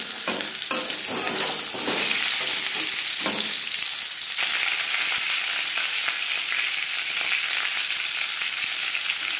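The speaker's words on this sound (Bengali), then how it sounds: "আবারও তেল দিয়েছি, দিয়ে দেবো আলু" Boiled potatoes frying in hot oil for a mutton curry, a loud continuous sizzle with occasional stirring scrapes, steady throughout and without speech.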